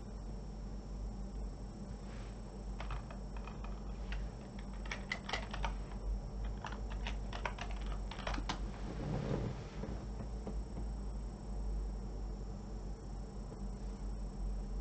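Mouse and keyboard clicking, fairly loud and close, in irregular clusters of sharp ticks over a steady background hum, with no one speaking.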